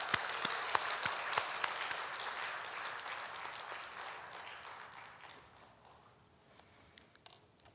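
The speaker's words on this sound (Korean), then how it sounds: "우리 오준문 선교사님 나오실 때 우리 뜨겁게 박수로 환영하겠습니다" A church congregation at a Wednesday evening service applauds to welcome a missionary, warm clapping from many hands that starts full and slowly dies away into scattered last claps.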